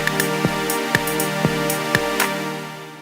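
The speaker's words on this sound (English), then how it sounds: "I've got a compressor over a pad sound" A sustained synth pad with a compressor on it, holding a steady, thick chord with faint rhythmic pulses every half second or so, no voices.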